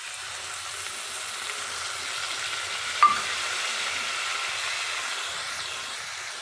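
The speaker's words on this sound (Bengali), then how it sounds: "একটু ভাজা ভাজা করে নেব পোস্তটা" Poppy seed paste and green chilli paste fry together with turmeric-coated potatoes in a pan. The sizzle is a close, even hiss throughout, with a single sharp utensil clink partway through.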